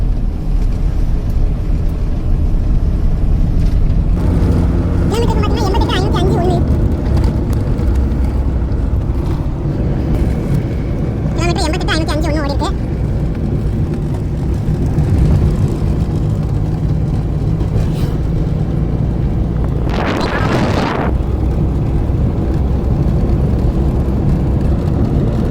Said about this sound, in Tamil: வண்டி ரேஸ் பண்ணிட்டு தான் இருக்கேன்